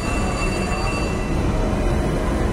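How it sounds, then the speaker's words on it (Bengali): A continuous broadband rumble and hum of a metro train running past near Dum Dum metro station, loud and steady throughout with no talking. "ট্রেন যাচ্ছে ওইখানে, দেখ ওই দেখ, ট্রেন না মেট্রো"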